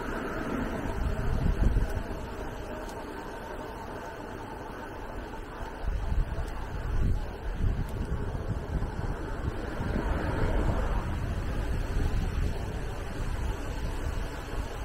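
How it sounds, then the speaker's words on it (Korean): Blustery wind buffets the microphone while an electric bike climbs a steep uphill road on the Inwang Skyway, gusting in uneven low rumbles that swell and fade over a constant airy roar. "바람소리"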